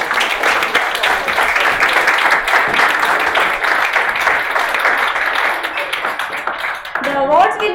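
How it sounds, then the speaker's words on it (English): Audience applause for award winners at an art teachers' honour ceremony, steady dense clapping that eases toward the end as a voice begins speaking. "Can we have a big round of applause for all the awards?"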